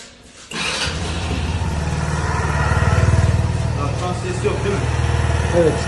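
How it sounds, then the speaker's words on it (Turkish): A Kuba Brilliant 125 scooter with a faulty variator starts with a brief crank, then settles into a loud, steady, close idle with a low rumble and rhythmic putter, while voices speak at the start. "Bir çalıştır motoru tekrar."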